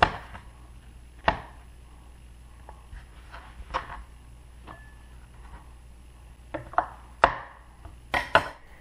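A kitchen knife chops vegetables such as celery, onions, mushrooms and parsley on a cutting board in a few sparse, uneven strikes, with a small cluster near the end, against a quiet background.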